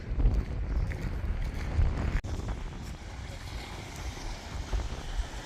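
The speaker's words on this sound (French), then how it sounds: "Il y a moins de houle mais il y a du vent ici." Strong wind rumbles and buffets the microphone on a seafront on a Morbihan peninsula in Brittany, a steady, loud, low roar with gusts throughout, while someone speaks under it.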